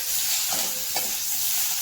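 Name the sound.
raw tomato frying with brinjal and fenugreek leaves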